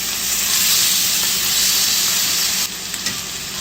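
A flipped cod fillet sizzling in a pan, a loud, dense, steady hiss that drops suddenly in level near the end, then continues more quietly with a faint clink.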